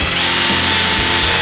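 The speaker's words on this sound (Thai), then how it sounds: "แล้วเราก็สามารถแบบขันสกรูนะครับในมุมนี้ได้เลยนะ" An iMAX IMCD-20GT cordless drill drives a screw in one steady, loud, continuous whir, close by, with a slight dip in motor pitch partway through and no speech.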